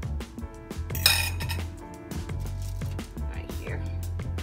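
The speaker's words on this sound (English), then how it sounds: "So I'm gonna put my potatoes onto the baking sheet." Potatoes set down one after another on a foil-lined baking sheet, giving soft crinkly thumps and light metallic clinks close up, with a sharper rattle near the start and a voice talking throughout.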